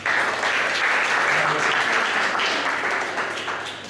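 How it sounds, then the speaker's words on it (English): An audience at a personal-development seminar applauds, a loud sustained wash of clapping that tapers slightly toward the end. "Give yourselves a round of applause."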